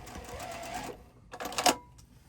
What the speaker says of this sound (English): I'm going to pivot and sew right off the corner.